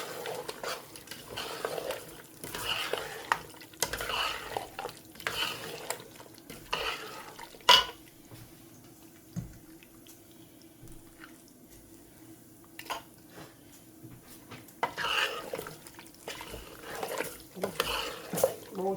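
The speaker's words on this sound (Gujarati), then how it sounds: "ચાલો પહેલાં મિક્સ કરીએ" Desi chicken and washed vegetables stirred together in a pot, scraping and clattering in uneven bursts close up with quieter pauses between, mixed with faint sizzling.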